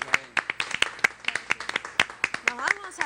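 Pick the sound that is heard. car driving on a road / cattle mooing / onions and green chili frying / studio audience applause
studio audience applause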